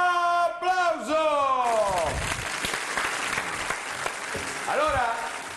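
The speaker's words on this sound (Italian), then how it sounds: "Tobruk da Mirandola, applauso." A television studio audience on an Italian variety show bursts into a few seconds of lively clapping, framed by a host talking loudly before and after it.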